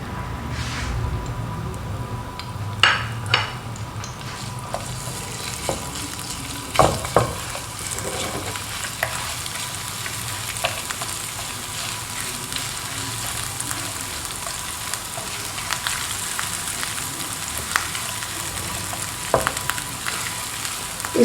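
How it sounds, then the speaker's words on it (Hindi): Ginger garlic paste frying in ghee in a pan, a low steady sizzle with occasional stirring scrapes and clinks, fairly quiet and close, with no talking. "इसको घी में हमने फ्राई करना है।"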